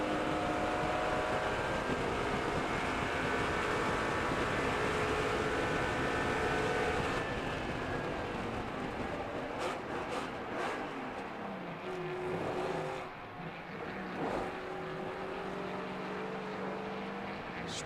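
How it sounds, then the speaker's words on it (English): A NASCAR-style race car's engine roars continuously, then falters after stripping a gear, a possible broken input shaft disconnecting the driveline, with revs dropping and surging unevenly over a steady loud background hum. "Listen to the sound of the engine"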